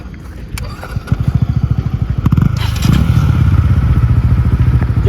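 A Yamaha MT-15 and a Pulsar N160 motorcycle strain against each other in a tug of war. Their engines give a loud, rapid pulsing rumble that builds and holds close by, with thuds and clatter mixed in.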